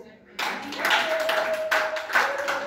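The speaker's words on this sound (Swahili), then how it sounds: "Hata nyinyi mnaweza mkaongeza mkapiga makofi." An audience claps at a Swahili sermon on thanksgiving, a dense, steady patter of hands beginning abruptly and continuing throughout, with a thin sustained tone running beneath it.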